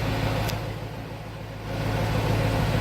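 A 1993 Chevrolet Corvette 40th Anniversary convertible with a 5.7 liter V8 and stock exhaust idles in a smooth, steady low drone that dips slightly midway, then swells back up.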